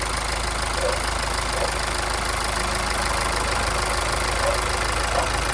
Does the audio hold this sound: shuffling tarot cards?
no